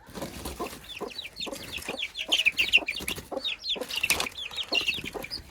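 A pet hen clucking busily as she is let out of her coop, with rapid repeated clucks and squawks, close and fairly loud over farmyard rustling.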